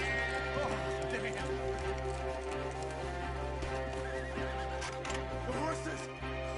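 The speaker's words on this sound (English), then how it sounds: "The horses!" Horses in the video game Red Dead Redemption 2 neigh and whinny repeatedly over steady galloping hoofbeats, loud and close, with game music and voices running underneath throughout.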